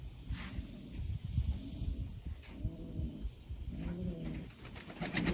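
A Jansen-line racing pigeon gives repeated low, throaty coos in rising-and-falling bursts, close and fairly soft, with light rustling between calls and no speech.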